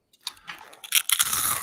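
A person crunches and chews crisps from a bag, several sharp, close bites and crackles building from near silence into a dense run of crunching at the end.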